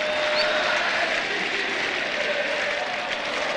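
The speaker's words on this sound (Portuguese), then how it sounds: "Vai cantando a torcida do Ipatinga" Ipatinga football fans fill the stadium with dense, continuous crowd noise during a 2007 Brazilian Série B match against Marília, a steady roar without clear breaks.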